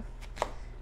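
A knife slices an onion into wedges on a cutting board, giving one soft cut followed by a sharper, louder chop close by.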